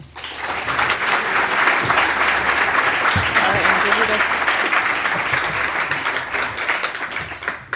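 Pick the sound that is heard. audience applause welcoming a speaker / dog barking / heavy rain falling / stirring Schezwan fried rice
audience applause welcoming a speaker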